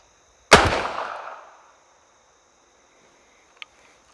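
A single loud gunshot cracks sharply at an outdoor shooting range, its blast decaying over about a second, followed by a faint small click and near silence.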